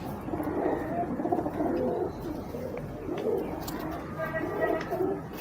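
Pigeons coo repeatedly in low, throaty rolling calls, close by, with a few soft chirps over a noisy background.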